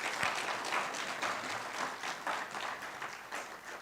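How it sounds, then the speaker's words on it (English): At a university research week launch, an audience claps in a soft, continuous patter that swells slightly and then tapers, heard at some distance in a large room. "Give another round of applause"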